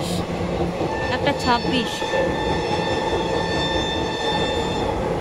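A Sealdah to Lalgola passenger train, number 53175, runs along the line in a steady rolling roar with brief wheel squeals and rail clatter, heard from inside over constant background noise, with a voice briefly speaking.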